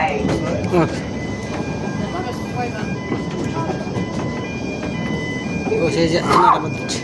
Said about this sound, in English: the only narrow-gauge heritage steam railway to run inside a zoo in the UK